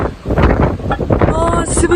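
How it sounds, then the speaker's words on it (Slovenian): Strong wind buffets the microphone outdoors in wintry weather, with loud gusty roaring rising and falling, and a person speaks under it. "To je noro, ko ga piha."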